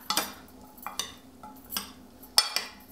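Israeli salad being tossed and mixed after adding salt, pepper and lemon juice, giving a few scattered clinks and scrapes of a utensil against a bowl with quiet pauses between.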